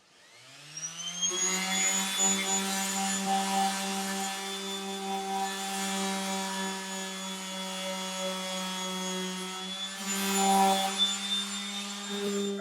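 A power sander works rust off the body of a Toyota Tacoma, its motor holding a steady, loud whine with strong tonal harmonics for about twelve seconds, briefly rising near the end, with no talking.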